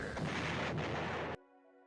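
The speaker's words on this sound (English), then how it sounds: "Explosion." A loud, dense explosion sound effect roars for over a second, then cuts off abruptly to a quiet tonal hum.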